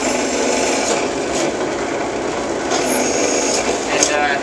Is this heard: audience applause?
no